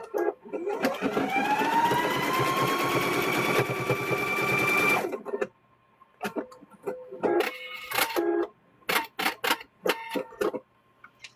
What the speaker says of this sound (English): we're going to stitch across here